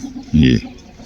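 A single short, low cluck from an Aseel breed chicken, close by, over a quiet background hum.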